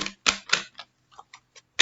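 Stiff tarot cards are shuffled in short, sharp bursts of crisp clicking and flicking, loud and close, separated by brief pauses.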